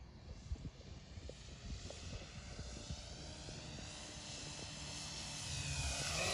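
A 100-inch scale model Cessna Bird Dog airplane makes a low pass, its engine drone steady and building louder toward the end as it comes closer.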